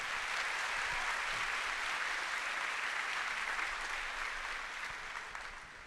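Steady, even clapping from a sizable audience at a school district's opening-day event fills the room, holding at a constant level before beginning to fade slightly at the close.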